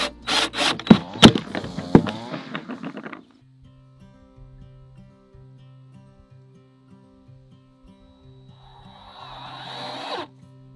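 A power drill drives screws into a wooden garden box in short bursts, with rattling and grinding at the start before the drill falls quiet, then a brief scraping buzz near the end.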